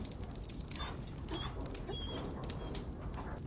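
Faint whimpering and soft yips from a dog in the fantasy game Dragon Age: Origins, quiet and low over a steady background hiss.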